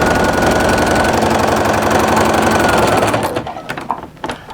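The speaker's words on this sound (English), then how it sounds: "I'm just going to start at the beginning and stitch straight off the edge and then repeat all the way" A sewing machine stitches a straight seam across patchwork fabric with a loud, fast, even mechanical whirr that stops after about three seconds, leaving a few scattered clicks.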